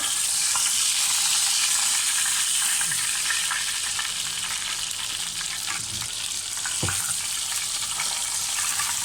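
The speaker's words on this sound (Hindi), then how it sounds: "बहुत ज़्यादा फ्राई नहीं करना है इसको।" Green chicken tikka pieces fry in a pan at home, giving a steady, broad hiss of hot oil with faint scattered pops and an occasional clink, close and continuous with no talking.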